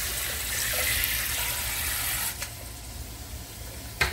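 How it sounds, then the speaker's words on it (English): Cold water streams from a tap over boiled eggs in a steady, soft hiss, broken by two brief clattering splashes near the end. "I'm going to run a little bit of cold water over them."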